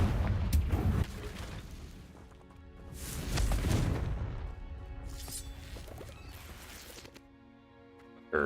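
A Confringo fire spell explodes in a video game, a heavy booming blast swelling mid-clip amid continuous rumbling game sound, with a sharp hit at the very end.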